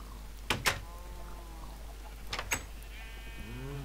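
A sheep bleats in Minecraft, two short bleats close together and then one more, over a quiet hum.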